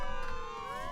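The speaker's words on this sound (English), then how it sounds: "there's like a lot of sirens going off right now" Wailing emergency sirens in the vehicle-building game Trailmakers, several overlapping tones sliding steadily in pitch, sustained and fairly prominent across the whole short moment.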